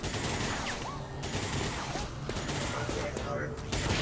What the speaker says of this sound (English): They're very good with suppressing fire